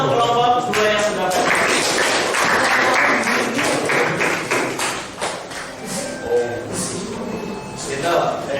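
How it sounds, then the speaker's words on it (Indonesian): Classroom group applauding group 2 during an academic coaching session, a burst of clapping from several people, fairly close and loud, with a voice speaking over it. "tepuk tangan untuk kelompok 2 yang sudah"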